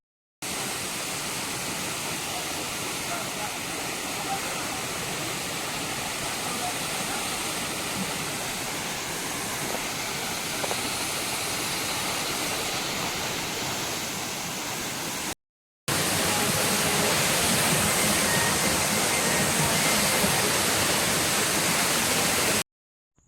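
A scenic village waterfall roars as a steady, broadband rush that stays loud and unbroken for the whole stretch, briefly cutting out and resuming slightly louder and closer, with no voices over it.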